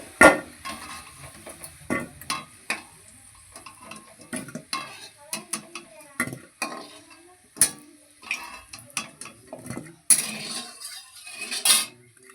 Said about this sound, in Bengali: হ্যাঁ মাংসের আলুটা ভাজা হচ্ছে